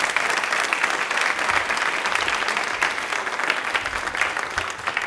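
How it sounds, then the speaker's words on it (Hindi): A studio audience applauds loudly and steadily for Khushboo, a guest on a Women's Day quiz show, the dense clapping filling the room without a break. "एक बार तालियां खुशबू मैम के लिए जोरदार हो जाए प्लीज"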